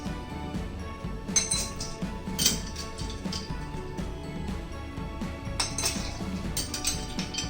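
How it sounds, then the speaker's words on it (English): Hard ice balls clink and rattle into a glass in a few bright bursts, fairly close and moderately loud. "First, let's put some ice balls."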